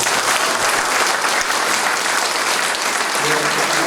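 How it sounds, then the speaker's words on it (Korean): Audience applause at a founders' meeting for a history hall in Jinju, loud, dense clapping from a crowd, sustained evenly, with a faint voice near the end. "수고 열심히 하시라고 박수 한번."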